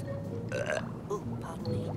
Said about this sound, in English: Just swallow some of these bubbles, then let out a nice big burp.